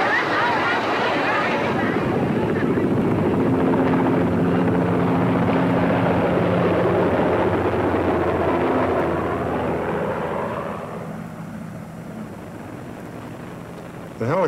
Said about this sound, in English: The helicopters landed on the carriers, and there was no space.